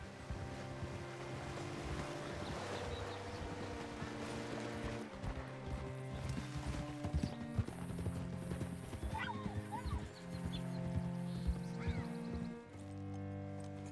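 Horse hooves clip-clop steadily at a riding pace in Red Dead Redemption 2, up close and continuous, with a horse whinnying and a layered game music score running underneath throughout.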